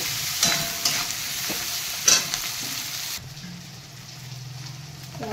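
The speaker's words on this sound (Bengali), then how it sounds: "আমি টমেটোগুলো দিয়ে দেবো।" Tomatoes dropped into spices frying in a pan, a loud close sizzle with a few scraping stirs that quiets to a low, steady frying hiss after about three seconds, with no talking.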